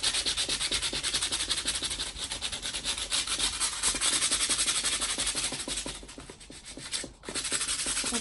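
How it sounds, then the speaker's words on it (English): Sandpaper rubs back and scuffs gesso on a page, a rhythmic scratchy back-and-forth rasp that sounds close and steady, with one short pause near the end. "I'm just using a little bit of sandpaper to rub back to some of the gesso and scuff it up a bit"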